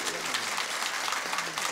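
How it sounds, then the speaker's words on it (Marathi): Men in the audience at a Marathi devotional kirtan gathering clap together in a dense, sustained burst of applause that fills the short moment. "पुरुष मंडळी टाळी."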